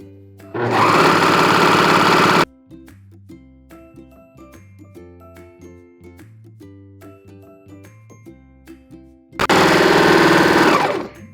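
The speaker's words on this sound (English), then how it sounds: "When you get to the end, you can just serge off." A serger overlocking a lettuce hem along the edge of stretched knit fabric, two loud buzzing runs of a couple of seconds each bracketing a quieter stretch of soft background music, very close.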